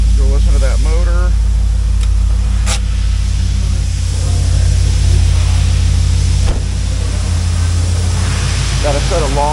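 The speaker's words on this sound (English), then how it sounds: "let's go listen to that motor" A 2006 Pontiac GTO with a 6.0L LS2 V8 and long-tube headers idles with a deep, steady rumble at a wrecking yard, loud and close, while someone talks briefly over it.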